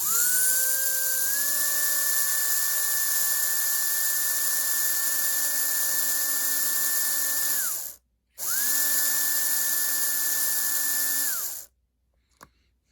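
A tiny HO-scale slot car electric motor whines at a steady high pitch, spinning up and holding for several seconds, briefly cutting out, then running again before stopping.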